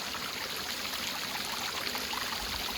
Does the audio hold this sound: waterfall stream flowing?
yes